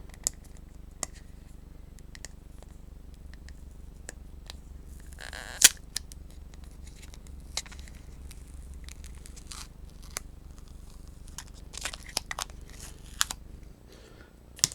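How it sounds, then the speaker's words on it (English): The backing sheet is peeled off a rub-on transfer for a DIY craft, giving faint, scattered crackles and small tearing ticks over a quiet room, with one brief louder rip partway through. "But first of all, I need to peel this off."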